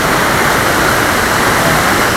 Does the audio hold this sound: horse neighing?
no